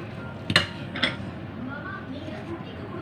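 A utensil mixes guacamole with garlic and finely chopped onion in a bowl, giving two sharp, close clinks against the dish followed by softer scraping and stirring.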